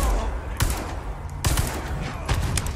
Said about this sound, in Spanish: le disparé todas mis balas